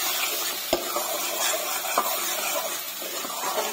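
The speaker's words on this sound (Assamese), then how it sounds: "মছলাটো অলপ ভাজিব লাগে" Masala for egg curry fries in a pan, a close, steady sizzle broken by a few sharp scrapes and clicks as a spoon stirs it, with no talking.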